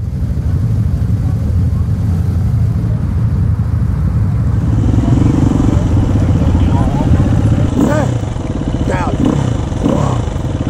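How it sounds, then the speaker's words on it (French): A rally motorcycle runs a night special stage in desert dunes, its engine a loud, steady drone with a shifting pitch partway through, and a voice speaks briefly over it near the end. "il faut déjà remonter sur la moto pour une spéciale de nuit"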